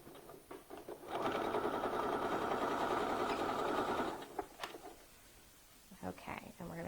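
Close and fairly loud, a sewing machine runs a small zigzag stitch along a garment seam in one steady three-second burst, with light handling noises and a brief voice before and after.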